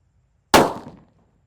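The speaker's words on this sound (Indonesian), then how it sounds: "ada mercon thunder yang kita buntel dengan kertas" A single sharp bang from a thunder firecracker wrapped in thick paper, one loud close explosion with a short decaying tail and silence before it.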